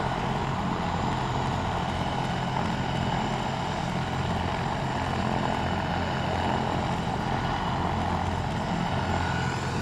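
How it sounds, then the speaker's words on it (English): A medical airlift helicopter at a rescue scene in Valencia whines and thrums steadily as its engine spools up, a loud, continuous rotor and turbine drone that holds close and constant throughout. "this copter going to be spooling up in just a second, so you'll hear it get a little bit louder."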